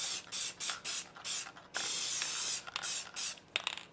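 Crystal Clear sealer hisses from a spray can into a plaster mold in a series of short bursts and one longer sustained spray, loud and close, with no talking.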